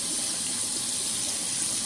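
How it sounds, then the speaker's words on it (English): Tap water runs steadily onto a makeup brush as soap is rinsed out of it at a sink, a continuous close splashing hiss with no pauses. "Get your water, rinse it out,"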